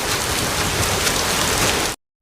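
Heavy rain in a film scene pours down as a loud, dense, continuous hiss of drops on surfaces, cutting off abruptly near the end.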